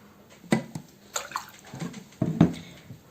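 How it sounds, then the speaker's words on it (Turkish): Water is poured over sprouting seeds in a container, giving a few short splashy bursts of pouring, close and fairly quiet. "şöyle üzerine bir parmak geçecek kadar suyunu ilave ediyoruz"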